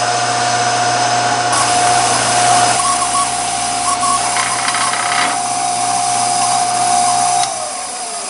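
A power drill bores holes into a metal fishing rod holder bracket for a Crestliner boat, giving a loud, close, steady high motor whine with gritty cutting noise that runs unbroken for about seven seconds before winding down.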